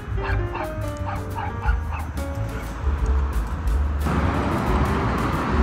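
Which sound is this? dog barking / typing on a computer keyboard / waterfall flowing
dog barking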